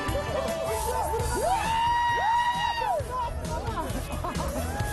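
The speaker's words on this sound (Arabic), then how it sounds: "يصرخ الجمهور بالهتافات كلما أصاب السهم الهدف" Spectators cheer and whoop at a Tuvan archery contest, a lively crowd shouting with rising and falling calls, steady and close, mixed with general chatter.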